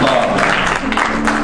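Worshippers in a church service give a hand clap of praise, with a thick, continuous wash of clapping that swells and dips slightly, and some faint vocal sound mixed beneath it.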